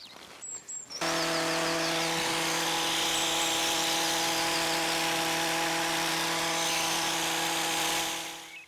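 A loud hedge-cutting machine starts up and runs steadily while trimming the top of a hedge, a constant buzzing whine that holds for several seconds, then fades as it shuts off.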